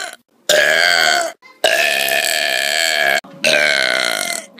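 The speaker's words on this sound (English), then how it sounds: "Burp contest." Three long, resonant belches at a burp contest follow one another with brief gaps between them, each sustained and very loud, captured close with no other sound.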